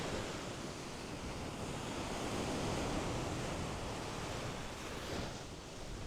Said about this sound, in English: You're going to wait for one of the bigger waves to come up.